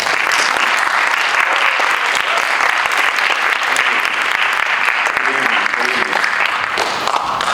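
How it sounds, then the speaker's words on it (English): Warm audience applause at a TEDx talk, loud and continuous clapping filling the hall throughout, with scattered voices beneath it. "So please give a warm round of applause for Mr."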